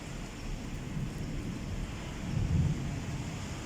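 A rainstorm in Antalya, heard from a balcony, gives a soft steady wash of rain with low rumbling gusts that swell briefly near the end, and nobody speaks.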